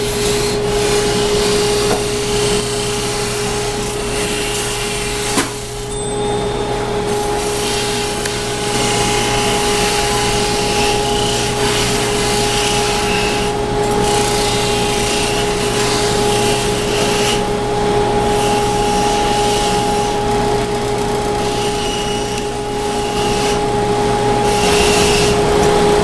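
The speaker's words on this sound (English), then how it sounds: "the high polish buffing wheel" A high-polish buffing wheel works a metal horse bit with a continuous, loud motorized whine and steady humming tones, plus brief rubbing and scraping changes as the piece is pressed against the spinning wheel.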